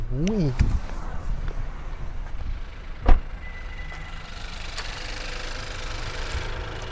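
A 2022 Honda City 1.0 turbo SV automatic starts up by push button and settles into a steady, even idle, heard close by with a brief chime and a knock near the start.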